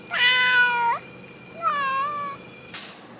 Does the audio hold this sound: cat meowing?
yes